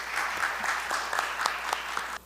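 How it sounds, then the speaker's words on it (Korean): A conference audience claps steadily and fairly loudly for a couple of seconds, the applause dense and even. "여러분 뜨거운 박수 부탁드립니다."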